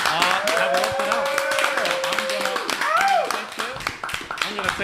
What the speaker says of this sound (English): Clap it up for a green flag that these two real ones have worked it out.